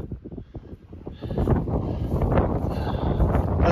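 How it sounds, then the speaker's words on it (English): Gusty wind on a hiking trail in the Sheep Valley of the Rockies buffets the microphone, a low rumbling roar that swells and stays loud after the first second, with no talk over it. "Doesn't make for good shooting though with the wind."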